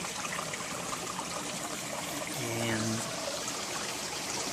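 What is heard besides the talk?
creek flowing among boulders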